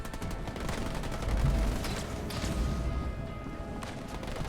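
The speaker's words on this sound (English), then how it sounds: "they're walking over the mines, and the sniper's gonna wipe them all out" Halo Wars 2 battle noise: mines exploding and sniper fire mix into a dense, continuous rumble of detonations and rapid gunshots, with booming swells in the low end.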